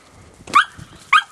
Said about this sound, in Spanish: los perros aquí, muy difícil que saquen un conejo. Los laten, claro.